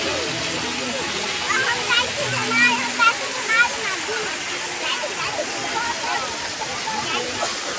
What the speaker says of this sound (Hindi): इसी के जस्ट बगल में यहाँ पर पानी का फुहारा है